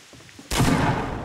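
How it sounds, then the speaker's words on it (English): Gunfire in the video game Fortnite, a sudden loud burst of shots that cuts in after a quiet half second and rings on, with no talk over it. "Okay, someone is shooting."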